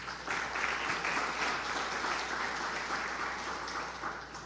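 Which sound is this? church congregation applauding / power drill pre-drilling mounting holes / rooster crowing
church congregation applauding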